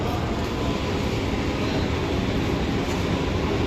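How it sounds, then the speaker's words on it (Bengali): A Sealdah–Kalyani AC EMU local train pulls away from Shyamnagar station, a loud, steady rolling roar and rumble of wheels and motors heard from onboard, with no talk. "একদম নির্ধারিত সময়ে শ্যামনগর স্টেশন থেকে আমাদের ট্রেন ছেড়ে দিয়েছে।"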